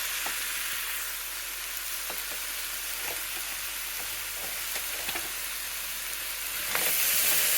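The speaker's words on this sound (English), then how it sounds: "And let those all just start to fry up" Shrimp fajita ingredients fry in a pan, giving a dense, even hiss with scattered soft scrapes of stirring, and the sizzle swells louder toward the end, with no talking.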